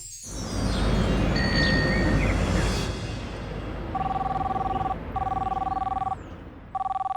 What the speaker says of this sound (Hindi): मैनाक, तुम्हें किसी ने फोन किया है।